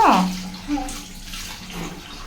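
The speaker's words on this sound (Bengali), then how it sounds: "কুলি করা শেষ মুখ হাত ধুইতেছ গুড" Tap water runs briefly into a basin as a child rinses the mouth and washes face and hands, a close splashing burst that fades to a softer trickle.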